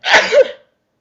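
A single sharp sneeze, close and loud, bursting out and trailing off in under a second, with no talking.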